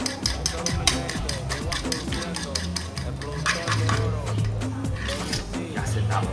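A utensil scrapes and clinks rhythmically against a bowl as a thick Dominican meringue mixture is stirred by hand, with a low hum and brief speech in the background.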